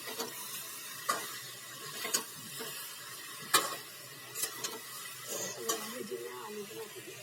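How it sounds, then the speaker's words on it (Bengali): Chicken curry with potatoes being stirred in a pan after a pinch of sugar goes in: soft scraping strokes recur every second or so over a low, steady sizzle, fairly quiet and close, with no talking. "চিনি দিয়ে ভালো করে নাড়া হচ্ছে।"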